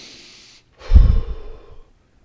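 A single deep breath drawn in and let out slowly, close and fairly loud, with a soft airy rush that fades over about a second.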